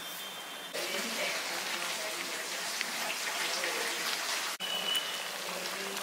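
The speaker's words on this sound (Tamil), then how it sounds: "குருமா வந்து நல்லா கொதிச்சுக்கிட்டு இருக்குது." Kurma curry boiling in a pan, a steady close bubbling and spattering hiss that continues throughout with a brief break near the end, with no talk.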